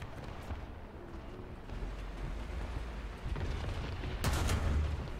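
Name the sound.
tank cannon shot in video game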